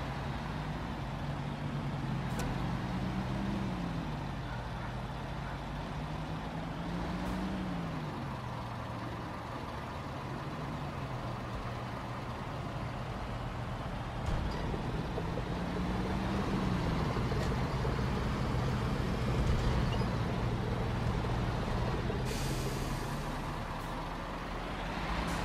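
A heavy truck or semi-trailer rig drives in the construction game Bau Simulator 22 on PS5, its engine droning steadily with rising and falling revs and a few short hisses and clanks, with no talking.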